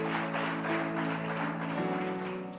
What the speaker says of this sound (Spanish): Give a round of applause to God